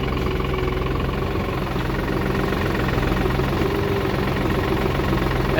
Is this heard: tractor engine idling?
yes